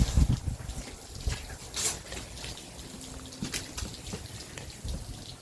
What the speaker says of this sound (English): You see that front one up there as the water's coming out of it.